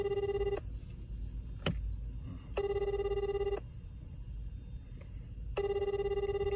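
A telephone ringback tone sounds while a call is being placed, three steady electronic bursts of about a second each separated by pauses, with a sharp click in between over faint background noise.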